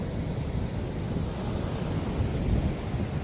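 Sea waves roll onto the beach at Guhagar with a steady, dense roar of surf, and wind buffets the microphone throughout without any voices.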